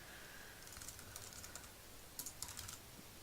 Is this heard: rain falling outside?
no